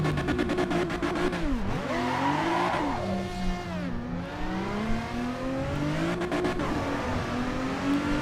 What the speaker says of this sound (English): Oh, engine.